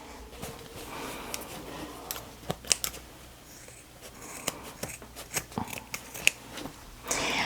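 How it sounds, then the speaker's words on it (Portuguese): Small zipper scissors snip away excess zipper on a sewing project, a series of sharp close clicks and snips in an irregular rhythm over a quiet room. "Agora podemos vir cortar esse excesso aqui do zíper"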